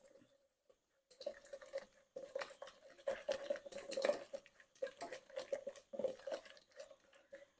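Cornflour is mixed into gobi 65 masala in a bowl, giving close, moist squelching and a rapid irregular patter of mixing that starts after a quiet moment and comes in short bursts.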